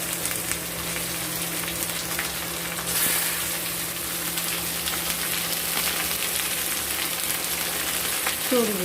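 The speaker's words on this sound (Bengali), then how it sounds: "চর্বি মশলাগুলো মাংসটাকে ভালো মতো করে আমরা ভেজে দিই" Chicken pieces frying in fat with browned onions and spices give off a constant loud sizzle, with occasional stirring scrapes and a brief hiss partway through.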